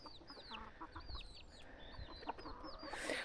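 Hens cluck and chatter softly in a wet farmyard enclosure laid with a tarp and dry hay, several birds murmuring close by in short repeated calls over a quiet background.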